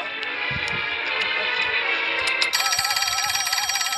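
In an animated show, a telephone rings loudly in a fast warbling electronic trill that starts abruptly partway through, over a background of humming music.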